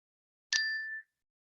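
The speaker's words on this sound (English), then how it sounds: "we can use the bell as a reminder to bring the awareness to this moment" A single strike of a meditation bell rings out close and clear, its bright tone sustaining for about half a second before it is abruptly cut off, alone in silence.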